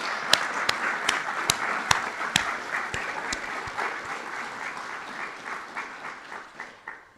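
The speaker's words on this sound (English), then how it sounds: "if you could give a round of applause, please, for people" An audience at a humanities forum applauds, with a few loud, distinct claps up front over a steady wash of clapping from the room that gradually thins and fades over about seven seconds.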